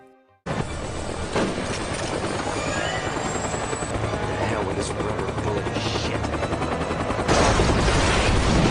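A helicopter roars loudly and steadily in an action-movie prison battle, its rotor thump continuous and dense, mixed with bursts of gunfire and a brief voice.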